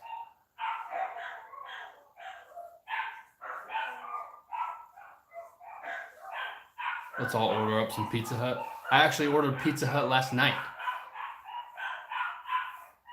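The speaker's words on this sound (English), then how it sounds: "Do you hear these dogs?" Dogs bark outside, heard in a couple of short bursts of clear, fairly close barking while a person talks over most of the stretch.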